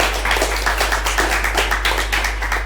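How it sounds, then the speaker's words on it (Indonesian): A crowd applauds the president with steady, sustained clapping that sounds moderately close. A constant low hum runs underneath, and no one speaks. "Kita aplaus untuk presiden kita"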